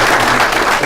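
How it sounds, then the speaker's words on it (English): Brief burst of clapping from an audience at a military swearing-in ceremony, loud and dense, filling the whole moment without any voices over it. "so please give him a round of applause for the service of our country"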